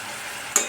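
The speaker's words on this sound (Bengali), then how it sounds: "একটু কষিয়ে নিতে হবে ভালো করে।" Vegetable curry with green chillies being stirred and sautéed in a pan, a continuous close sizzle ending in a single sharp clink of the spoon.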